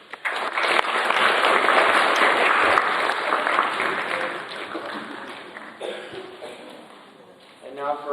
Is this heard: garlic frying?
no